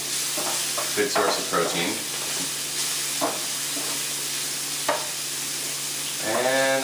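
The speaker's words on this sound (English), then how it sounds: "you probably don't have to stir as crazy as I'm stirring" Bay shrimp frying in coconut oil in a pan, stirred briskly: a steady loud sizzle and hiss runs throughout with scraping stirs, while a person talks over it.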